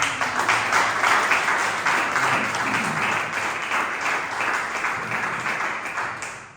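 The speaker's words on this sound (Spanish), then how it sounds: "Un fuerte aplauso para él." Dense, sustained applause from a church congregation after a sermon, loud and steady throughout before slowly easing off.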